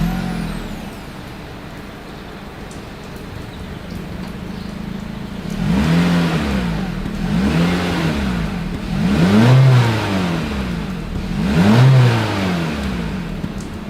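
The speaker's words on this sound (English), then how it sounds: "a single exhaust outlet with a very nice looking bright chrome tip" A 2023 Honda HR-V (Vezel) with a single chrome-tipped exhaust idles, then gets four short revs in a row, each swelling and falling back, heard close at the tailpipe with no talk.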